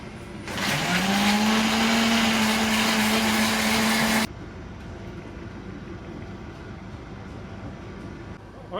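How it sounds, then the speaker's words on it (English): Garlic, fish sauce, soy sauce and chili whir loudly in a blender for about four seconds, the motor pitch rising and settling before cutting off abruptly, leaving a quieter room background. "So we're just gonna blend this. Simple. Put everything inside the blender."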